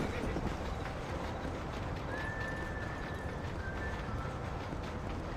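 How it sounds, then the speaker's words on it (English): Horse galloping in the video game Red Dead Redemption: steady hoofbeats with a snorting whinny over a continuous rushing background, moderately loud and unbroken throughout. "Tem que clicar pra andar com o cavalo."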